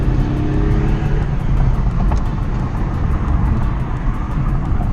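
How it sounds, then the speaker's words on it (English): An Infiniti G37 accelerates hard in third gear from a 50 roll, its engine note climbing steadily as it revs, loud and close, with no talking. "You guys want to do a small 50 roll third gear pull?"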